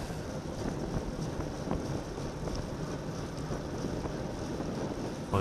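Wind roars steadily across the microphone in a broadband rush during a category 4/5 bicycle criterium race on a crosswind day, loud and continuous with no voices.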